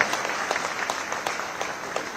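An audience claps in warm welcome for guests at a Kabir Jayanti festival at an ashram, a dense, steady patter of many hands that holds even throughout the short stretch.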